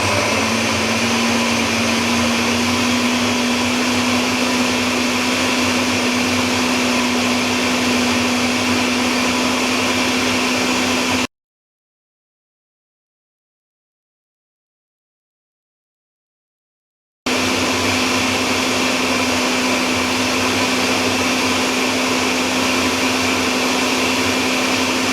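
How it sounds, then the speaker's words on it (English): A blender whirs steadily on high speed through fresh salsa, a loud continuous motor drone with a steady hum, cut off for several seconds before resuming just as strongly. "blend it on high"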